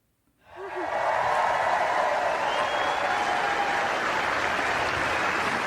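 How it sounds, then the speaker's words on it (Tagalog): A crowd at a tennis trophy ceremony bursts into applause for the runner-up, a dense, steady roar of clapping that swells quickly and holds strong throughout. "Iyala raised the runner-up trophy to the thunderous applause of the crowd"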